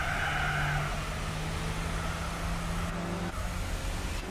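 Racing car engine in Gran Turismo 4 drones steadily at high revs, a sustained loud tone that drops as the driver brakes late into a corner, with no speech.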